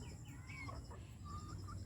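Mostly roosters and a single hen cluck on a small farm, faint and somewhat distant, with a few scattered short calls over a low steady background hum.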